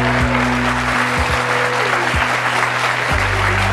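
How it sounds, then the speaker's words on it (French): A French television studio audience applauds warmly as guests come on, a steady sustained wash of clapping under a low background hum. "je vous demande tout d'abord d'applaudir très chaleureusement nos premiers invités, Anne, Christiane et Jacques."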